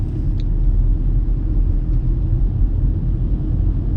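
A Tata Punch car engine holding a steady low drone while driving, a continuous close rumble of engine and road noise with no clear rise in pitch.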